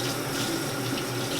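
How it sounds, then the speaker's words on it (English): Tap water runs steadily over hands being washed in a kitchen sink mid-baking, a continuous close splashing hiss with no voices. "Let me just wash my hand real quick."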